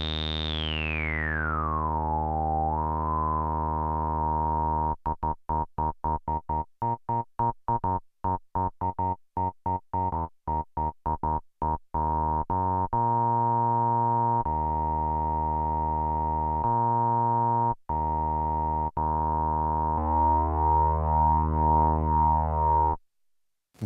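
Minimoog and Behringer Poly D synthesizer oscillators tuned together: a downward pitch sweep settles into a steady, buzzy sustained tone, then breaks into rapid gated pulses and held notes, ending in a slow, beating wobble. No talking.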